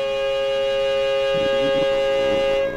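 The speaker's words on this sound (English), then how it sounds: "A siren. Cover your ears." A loud civil-defense-style siren blares as a steady sustained tone for almost three seconds, playing as an alert sound on a live stream with no speech over it.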